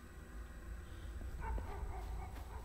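In the Silent Hill Homecoming video game, faint dog barks and yelps rise over a low ambient rumble in the second half, distant and muffled.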